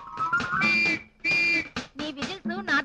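A man whistles a wavering, sliding tune in short bursts during a Telugu comedy scene, the notes broken by gaps and mixed with brief vocal sounds.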